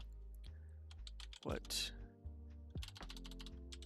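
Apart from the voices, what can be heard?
typing on a computer keyboard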